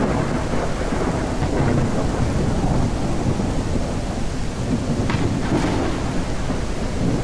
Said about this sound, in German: obwohl es jetzt regnet